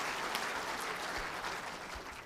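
At an indoor bowls world championship, a crowd applauds a well-played bowl, with dense, sustained clapping that fades slightly toward the end.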